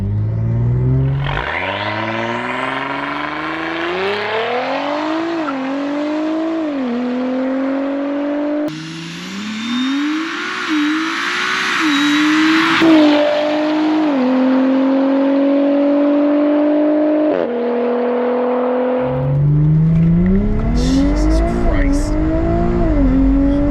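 An Audi with an Integrated Engineering Stage 3 TTE710 turbo on 93 octane revs hard to 7,000 RPM through several gears on a street, pitch climbing and dropping with each shift, loud and close, with a brief whoosh between pulls.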